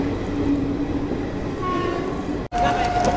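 A freight train passes through a railway station on a dedicated freight corridor, its steady rumble of wagons filling the clip, with a brief tonal horn-like note and a sharp break near the end.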